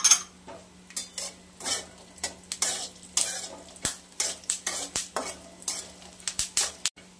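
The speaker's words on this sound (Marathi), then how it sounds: "तुपातच हे सगळं हलवून घेऊयात आपण" Melon seeds being stirred in ghee in a pan, a rhythmic series of close spoon-against-pan scrapes and clinks, about a dozen strokes over a faint steady background sizzle.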